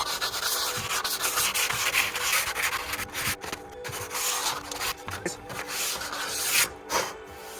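Sandpaper of 240 grit rubs back and forth across a wooden desk surface in steady, close, fairly loud strokes with brief pauses, with no talking.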